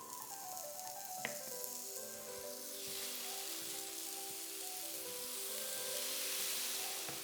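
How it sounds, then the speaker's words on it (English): Steady, continuous sizzling of Italian seafood frying in a hot pan, a close crackling hiss that holds throughout with no talking. "That's a pleasing sizzle."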